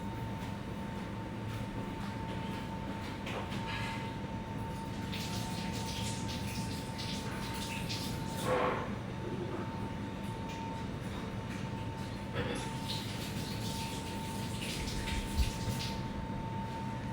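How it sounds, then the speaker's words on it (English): Running tap water pours continuously in a kitchen sink while hands are washed beneath it, a steady, fairly quiet rush with small splashes and shifts in the flow. "I'm going to quickly wash my hands."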